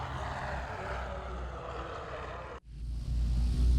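B-17 Flying Fortress bomber, the lead aircraft Yankee Lady, with its piston propeller engines giving a steady broad droning roar that briefly cuts out and then returns louder and heavier, with no voices.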